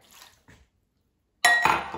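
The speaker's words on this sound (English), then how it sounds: "So now let's add a quarter cup of water" A quarter cup of water poured into a microwave-safe dish of trimmed Brussels sprouts: a short, close splash and trickle after a few faint clinks and a pause.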